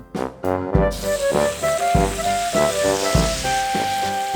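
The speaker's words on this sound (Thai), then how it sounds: "พอกระทะเริ่มร้อนเราก็คว่ำหน้าตัววิปที่เราทาซอสลงไป" Sauced baby back ribs sizzle in a hot oiled pan with a steady frying hiss beneath prominent rhythmic background music.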